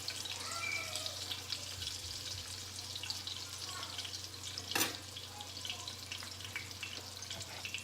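Chicken pieces browning in a frying pan give a quiet, steady sizzle throughout, with a brief louder clatter midway and faint water-like background.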